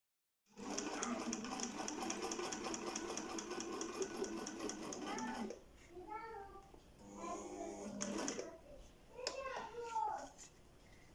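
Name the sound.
Husqvarna Viking 3020 sewing machine stitching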